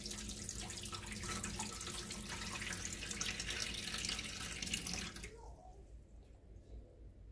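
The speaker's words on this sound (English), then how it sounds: "I give it one final rinse to make sure all my seeds are in the bottom" Tap water pours steadily into a sink while eggplant seeds are rinsed, a broadband close rush that stops abruptly near the end, leaving a quiet room.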